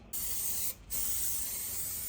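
A spray can of satin black paint hisses in two bursts, a short pause between them, close and steady with no voices.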